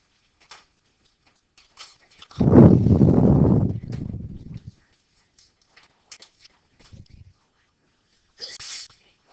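A single loud sneeze bursts out in a calculus classroom, followed by scattered faint rustles and small movement noises in a quiet room.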